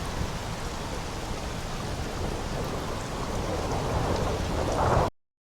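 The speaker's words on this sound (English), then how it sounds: "look at the water effects splashing, the rain hidden, and an endless ocean" Steady, dense rain hiss with a wash of water underneath from the video game Starfield, continuous and fairly loud, with no voices, building slightly before it cuts off abruptly.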